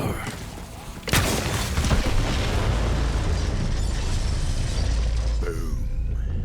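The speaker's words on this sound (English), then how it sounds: "The explosion echoed through the forest" A loud explosion from set bombs in Borderlands 3 erupts suddenly with a sharp crack, then a sustained roaring rumble with debris and echo carrying through a forest for several seconds.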